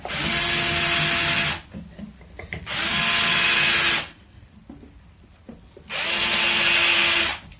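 A power drill bit countersinks holes in a guitar body, whirring loudly in three bursts separated by short pauses with faint handling noise.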